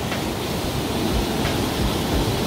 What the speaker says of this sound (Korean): 이 물들이 바로 내려가서 저 아래에 제인 폭포로 떨어집니다.